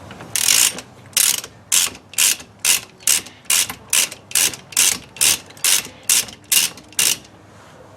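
A ratchet wrench undoing nuts on a Triumph 2500 car, about a dozen evenly spaced bursts of loud ratcheting clicks in a steady back-and-forth rhythm, close up and alone.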